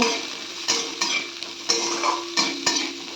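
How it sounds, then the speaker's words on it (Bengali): Potatoes are stirred into frying spices in a pan with Ilish fish head and note greens. A spatula scrapes in a steady rhythm of about six strokes over a continuous close sizzle, with no voices. "এবার এর মধ্যে আমি আলুগুলো দিয়ে দিলাম ভালো করে একটু নেড়ে নেবো"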